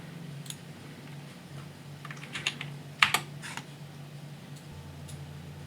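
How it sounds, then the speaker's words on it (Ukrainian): Keystrokes on a computer keyboard as a command is typed, a few scattered clicks building to a firmer cluster like a final Enter press, close and fairly quiet over a low steady hum. "пишемо команду Save, натискаємо Enter"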